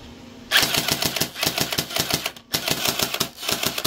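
An M4A1 version 2 toy rifle fires in full-auto mode, a rapid rattling stream of mechanical clicks and thumps lasting about three seconds with one brief break.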